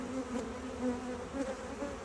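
Honey bees buzz around a hive during a swarm transfer from a nuc to a ten-frame box, a close, continuous droning hum that wavers slightly in pitch.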